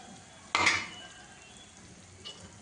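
A flour and cornflour slurry hits a pan of manchurian gravy with one sudden bright sizzle, then a low simmering hiss continues, and a second faint splash comes near the end.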